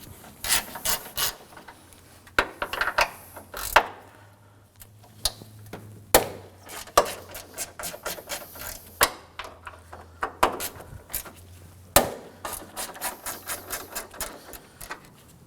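Three 10mm bolts on the upper bar of an Acura MDX loosened with a 10mm socket and ratchet, bursts of rapid close ratchet clicking separated by short pauses, no voices.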